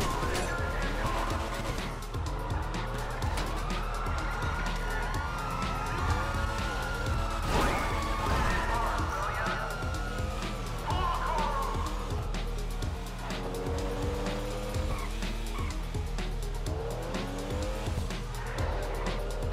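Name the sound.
car driving and crashing in GTA video game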